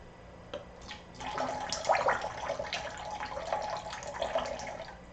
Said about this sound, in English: This is how she learned the water sound.